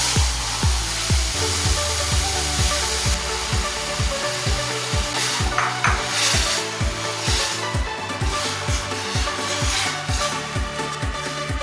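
Masala frying in a pan with curry leaves and shallots for egg gravy: a steady, close sizzle broken by quick, rhythmic scraping knocks of stirring, with no voices.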